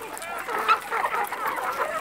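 Free-range chickens clucking nonstop on a small plot inside a Mato Grosso town in Brazil, a close overlapping chorus of clucks and short calls with a voice faintly mixed in.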